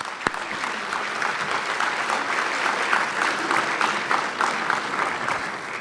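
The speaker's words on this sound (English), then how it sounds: "Let's give them a big round of applause." An audience at a 2013 Hall of Fame dinner breaks into applause, dense sustained clapping from a full room that holds steady at a strong level for several seconds.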